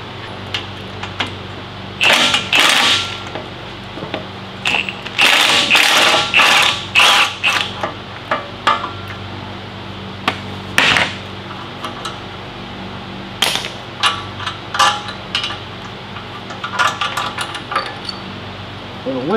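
Bearing caps being popped off a Dana 60 front axle with a 3/4 socket and swivel, heard as a long run of sharp metallic clanks, ratchet clicks and scraping bursts in a workshop, close and irregular.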